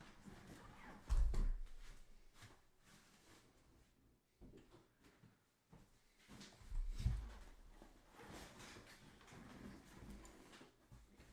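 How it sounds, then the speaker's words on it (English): An indoor door closes with a dull low thump, and a second similar knock comes a few seconds later, both amid quiet room ambience. "Let me close my door for a second."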